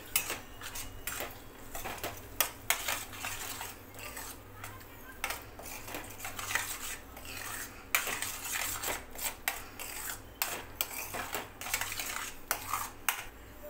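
Eggs whisked in a bowl with a utensil for street-style anda ghotala, a brisk run of close clinking and tapping against the bowl, steady and irregular, with a faint voice now and then.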